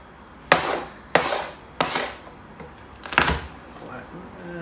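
A knife chops garlic on a wooden cutting board for Spanish peas and ham: four sharp, well-spaced knocks close by, the last one a quick double strike, against a quiet room.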